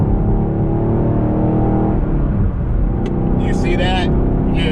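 A 6th-generation Chevrolet Camaro pulls hard in third gear without a no-lift shift, a loud steady engine drone filling the cabin with a slight dip near the middle, and a voice speaks briefly over it toward the end.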